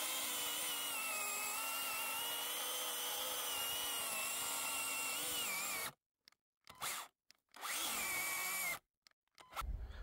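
A Parkside PGHSA 20-Li A1 20V cordless chainsaw runs at a steady high whine while cutting dry willow wood into 60 cm lengths, then cuts out into short bursts and pauses near the end.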